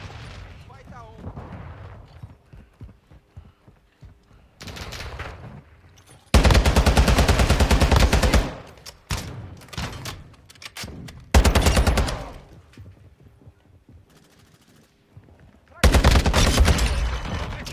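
Machine gun fire in Call of Duty Modern Warfare II comes in three loud, sustained bursts separated by quieter gaps of distant shots, with voices heard faintly in the quieter stretches.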